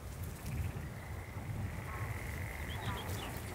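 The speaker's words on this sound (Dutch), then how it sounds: "Hoor je nou dat het een groene kikker is, Theo?" Green frogs croak outdoors in a nature area, a rhythmic series of low, pulsing croaks repeating steadily under light wind and faint background noise.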